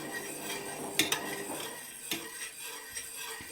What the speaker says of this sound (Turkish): Yine tabii yine böyle kenardan karıştıracağım. İyicene karıştıracağım her tarafına yayılsın.